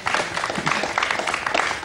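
An audience bursts into brief, lively clapping, a dense patter of hands heard up close for under two seconds.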